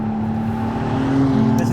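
A McLaren Artura plug-in hybrid supercar engine holds a steady, loud rev with a smooth sustained hum that builds slightly toward the end, heard close by.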